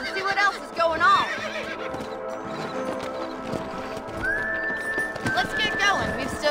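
Horse hooves clip-clop along with a neigh, set in busy Red Dead Redemption game audio with music and effects; a sustained tone rises partway through.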